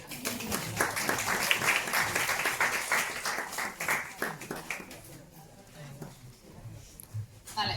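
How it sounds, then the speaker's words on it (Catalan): An audience claps for a speaker at a talk on healthy ageing with diabetes, dense applause filling the room for several seconds before thinning out, with a few scattered claps near the end. "Per un aplaudiment."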